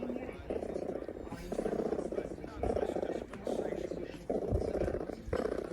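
A cat named Martin purrs steadily and close, its rumbling rising and falling in regular breathing cycles that continue throughout.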